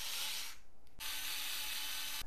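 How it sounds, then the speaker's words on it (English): A screwdriver drives M3 by 15 mm screws to fix a fan onto a 3D printer print head. It makes a steady, close ratcheting whir that breaks off briefly twice. "Here I'm using a couple M3 by 15 screws to keep this in place."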